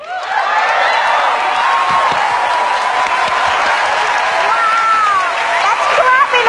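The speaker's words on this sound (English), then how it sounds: "Wow, that's clapping a lot." An audience claps in a sustained, dense wave of applause, loud and continuous for several seconds, with crowd voices mixed into the noise.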